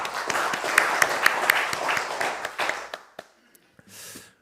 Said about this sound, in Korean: 하나님께 감사와 영광의 박수 올리겠습니다